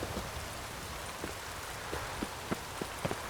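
Steady rain falling in the video game The Witcher 3: Wild Hunt, a continuous hiss with occasional louder drips and taps, no talk over it.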